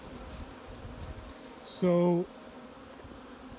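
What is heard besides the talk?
honey bees buzzing in an open hive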